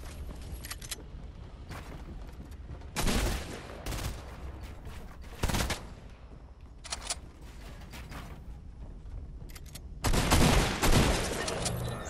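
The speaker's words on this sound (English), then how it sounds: "I shot him" Video game gunfire comes in several sharp bursts and single shots, loud against a quieter background of mechanical creaks and movement, spaced irregularly with a heavy final volley.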